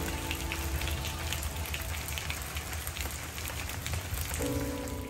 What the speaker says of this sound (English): We get so much rain in St. Augustine in August